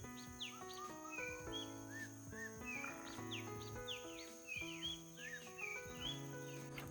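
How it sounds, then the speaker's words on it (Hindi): Birds chirp and whistle outdoors in cool weather, with many overlapping tweets and rising calls over a steady insect or cricket drone, continuous and fairly close, no voices. "वहाँ पे एक चिड़िया चिल्ला रहा है, देखो"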